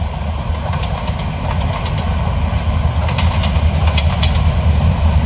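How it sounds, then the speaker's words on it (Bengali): A long Eid special passenger train of about sixteen or seventeen coaches rolls past slowly toward a bridge under repair, a steady loud rumble of wheels with faint clicks and metallic squeals, with no voices. "আর এইবারে ট্রেন আপনার ঈদ উপলক্ষে আইছে, তো ট্রেন মেলা লম্বা।"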